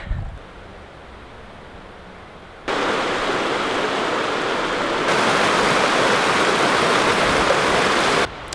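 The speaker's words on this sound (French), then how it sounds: "le petit ruisseau qui coule derrière" A small mountain stream in the Swiss National Park rushes steadily, a close, hissing wash of flowing water that jumps abruptly louder a couple of times before briefly cutting off near the end.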